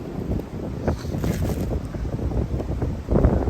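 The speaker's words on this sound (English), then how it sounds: "You can tell if the wind's getting worse. I think it's getting worse" Strong wind at a logging site buffeting the microphone in a heavy low roar, rising in a harder gust near the end, with no voices.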